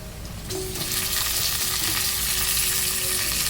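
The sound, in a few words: chicken added to browned onions, sizzling in pan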